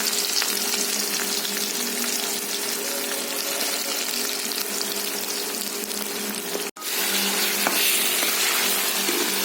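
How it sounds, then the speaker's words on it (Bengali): Onions fry in about two and a half tablespoons of oil in a kadai, giving a loud, even, close-up sizzle that drops out for a moment before carrying on. "হালকা করে লাল করে ভেজে নেব।"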